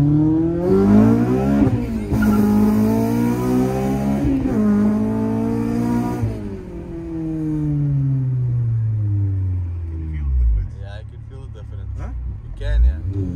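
A Honda Civic with a swapped K24 engine revs hard through several gears with rising pitch and gear changes, then eases off and fades while a voice speaks briefly near the end.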